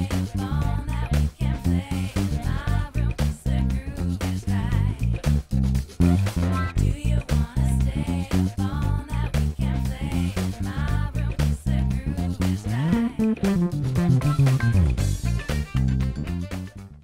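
A quick bass guitar lick, a busy, punchy line of rapid plucked notes over a steady groove with full band backing, played continuously and loud throughout.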